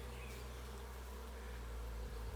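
Honeybees buzz during a routine hive inspection at the end of April, a faint steady low drone of many bees close by with no talking.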